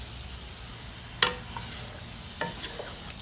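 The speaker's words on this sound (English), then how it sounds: "Go ahead and give it a stir." Whole seasoned chicken stirred in a cast iron pot for curry, a soft scrape of the spoon against the iron followed by lighter clinks over a steady, quiet sizzle.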